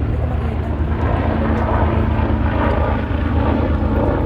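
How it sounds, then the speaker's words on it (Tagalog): A helicopter flies overhead near a cruise terminal park, a loud, steady rotor and engine drone that holds throughout without breaks, with faint voices underneath. "Oh, helicopter! Asan ka?"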